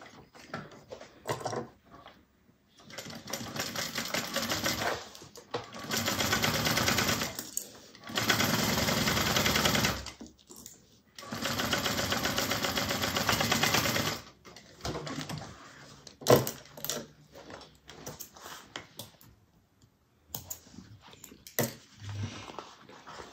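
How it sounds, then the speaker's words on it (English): A sewing machine stitches a fabric satchel in several bursts of steady whirring with pauses between runs, close and fairly quiet, with small clicks and handling noises in the gaps. "I'm going to go ahead and sew this together"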